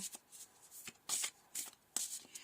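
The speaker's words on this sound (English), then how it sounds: "we're going to shuffle these cards until Spirit says stop" Tarot cards riffle and shuffle in quick, close bursts with short pauses between, a crisp papery flutter in a quiet room.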